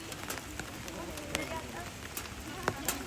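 Rain pours steadily outdoors in chilly Toraja during a traditional funeral ceremony at a tongkonan house, a constant hiss with scattered louder drips and taps.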